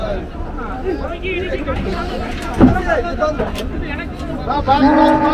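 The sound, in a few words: Kangeyam native cattle at Kundadam market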